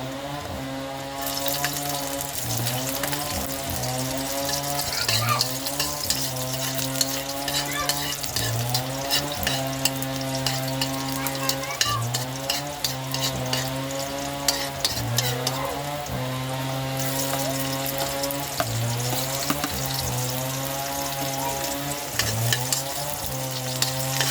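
Garlic and onion frying in a pan while being stirred for a lapas recipe: a steady close sizzle with occasional scraping runs under prominent tonal background sound and some talking.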